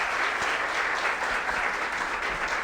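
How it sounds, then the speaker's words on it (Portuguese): An audience at a talk on urban drainage applauds the lecturer, a steady, even patter of many hands clapping at moderate volume without voices. "eu gostaria de pedir uma salva de palmas para o nosso palestrante."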